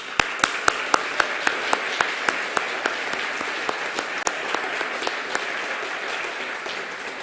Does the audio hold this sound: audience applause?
yes